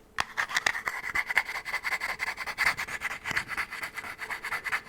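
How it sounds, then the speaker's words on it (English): Close, crisp scratching on a wooden surface in quick irregular strokes, a dry rasping texture that pulses steadily throughout with no speech. "So now I'm finally getting to scratching."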